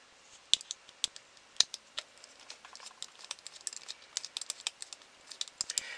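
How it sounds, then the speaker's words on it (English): Small screws come out of the back panel of a Kangaroo Mobile Desktop Pro, giving light, quiet, irregular clicks and ticks of a screwdriver and small parts, close and sparse, with no voice. "undo the four screws that are back here"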